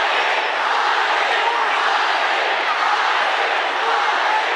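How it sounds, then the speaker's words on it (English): A capacity boxing-arena crowd cheers at full volume for a home fighter during a Usyk vs Briedis bout, with a dense, steady roar that carries unbroken from start to finish. "the capacity crowd here continuing to cheer at full volume for their man"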